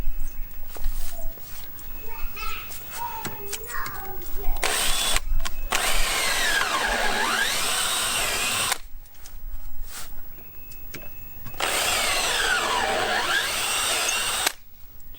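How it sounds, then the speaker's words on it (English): Power drill boring through a short piece of wood to take batten screws, starting with quieter handling noises, then two long, loud, whining bursts, each several seconds, with the pitch rising and falling under load. "So I will drill through it and put some batten screws in to hold it on."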